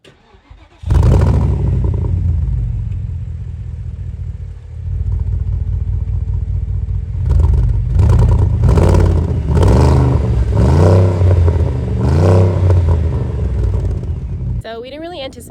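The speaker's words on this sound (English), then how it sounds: "we didn't really anticipate the exhaust being that loud" A Porsche Cayenne SUV built for off-road use cranks and starts, settles into a loud rumbling idle, then revs repeatedly with a deep, throaty exhaust.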